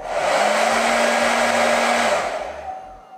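A Hot Tools Quiet Air Pro hair dryer blowing steadily, a smooth broad rush of air with a faint whine, close and constant before it winds down near the end.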